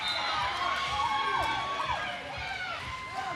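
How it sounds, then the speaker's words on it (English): Crowd cheering and shouting at a roller derby doubleheader, a steady wash of voices with rising whoops, heard loud throughout and continuous. "The crowd is cheering for Debbie."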